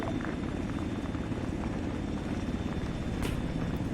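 A helicopter in a military simulation game drones steadily and loudly throughout as a continuous low rumble, with no talk.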